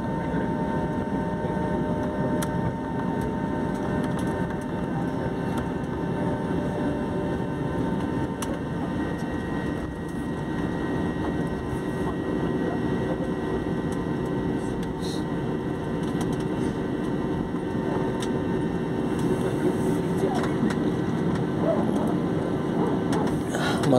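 An airplane taxis along the runway at Hyderabad Airport before take-off, its steady engine drone and rumble heard from inside the cabin, with a voice talking faintly at times.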